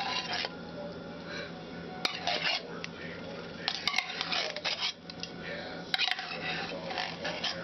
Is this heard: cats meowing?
no